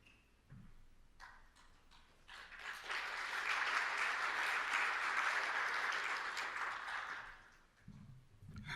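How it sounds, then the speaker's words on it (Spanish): Audience applause at an investment conference in Lima, starting with a few isolated claps that quickly swell into a full, steady round, then fade away with a low murmur near the end. "Gracias al valiente que dio el primer aplauso."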